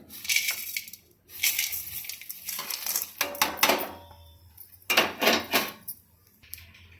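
Dry fruits being stirred and roasted together in a pan, heard as close, uneven bursts of scraping and rattling as a spoon pushes the nuts against the metal, separated by short quiet gaps, with no talking.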